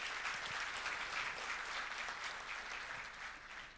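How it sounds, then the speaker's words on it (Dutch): A debate audience gives warm, even applause, a dense wash of many hands clapping that holds steady at a moderate distance and fades slightly at the end. "Alsjeblieft een warm applaus."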